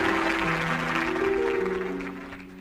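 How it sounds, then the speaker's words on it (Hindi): Church congregation clapping in a steady, dense wash of applause that stays fairly loud before tapering slightly at the end, with a sustained tone underneath. "जोरदार ताली के साथ।"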